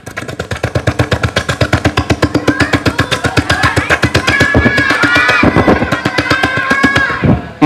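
A voice imitates a helicopter with a steady, rapid chopping pulse that continues throughout, ending in a brief burst.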